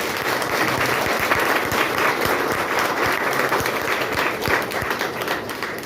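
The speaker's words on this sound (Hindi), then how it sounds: "जोरदार ताली बजा दीजिए अपने लिए आप लोग।" An audience at a Vestige motivational seminar breaks into loud, sustained clapping, a thick, even roar of many hands that continues for about six seconds without pause.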